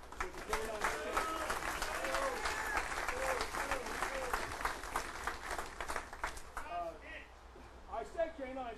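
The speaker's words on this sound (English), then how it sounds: "I'd like to give a special applause to Phil in the back" A church congregation applauds for a man named Phil, a broad sustained round of clapping from a crowd, with voices talking over it as the applause thins out toward the end.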